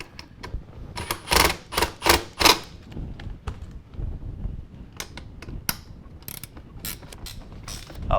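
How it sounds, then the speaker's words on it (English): A ratchet wrench worked during a Ford Ranger XL seat cover install, giving bursts of rapid clicking strokes, loudest early on, then sparser ticks and clacks nearby, with no speech. "I have a ratchet wrench. Will that work?"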